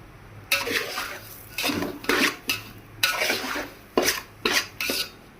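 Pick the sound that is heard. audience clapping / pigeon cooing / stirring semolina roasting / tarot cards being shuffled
stirring semolina roasting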